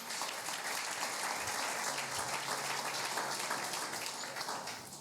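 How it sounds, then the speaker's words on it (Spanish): A church congregation applauds the priest with steady, even clapping that sounds rain-like and somewhat distant, sustained for several seconds before fading slightly at the end. "Damos un aplauso al Padre."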